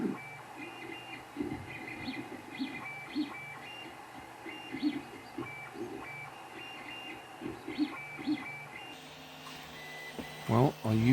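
A 3D printer prints a pen part, its stepper motors buzzing and whirring in short repeated bursts at a moderate distance, with a voice speaking quietly over it.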